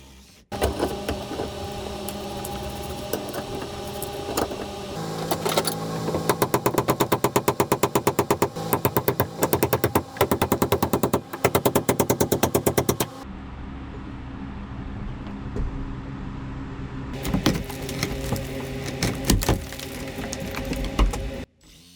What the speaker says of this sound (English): I got a metal cutting blade for the Sawzall, and I'm going to cut the bolts midway through here.